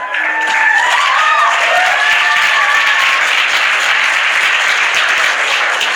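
Audience at a talk applauding and cheering, a steady wash of clapping with a few whoops rising above it, loud and continuous throughout.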